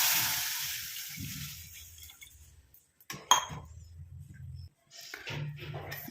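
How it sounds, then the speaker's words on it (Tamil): About a tumbler of water pours onto roasted ingredients in a hot pan with a broad sizzling hiss, followed by a few light clinks and softer bubbling. "இப்போ இந்த வறுத்ததோடு நம்ம 1 டம்ளர் அளவுக்கு தண்ணி சேர்த்துக்கலாம்"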